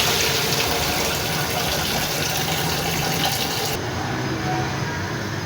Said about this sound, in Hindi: अब हमने इसमें पानी डाल देना है और कुछ भी नहीं डालना।